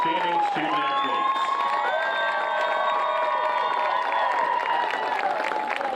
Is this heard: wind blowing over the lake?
no